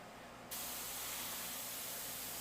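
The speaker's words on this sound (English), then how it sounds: "all that cutting for a few seconds of spraying" Airbrush spraying paint for a shadow effect on an Iwo Jima piece, a steady broadband hiss that bursts on suddenly and runs on evenly, close and fairly loud.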